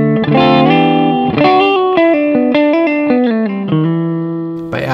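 Normal fretted electric guitar playing a quick melodic single-note phrase with distinct stepped pitch changes between notes, clean-to-slightly driven tone, loud and close with no talk.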